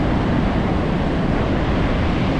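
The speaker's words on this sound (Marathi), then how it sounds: "वारा पण भरपूर सुटला आहे." Strong wind blowing at the Ratnagiri shore, a steady, dense roar of rushing air mixed with surf that stays loud and unbroken throughout.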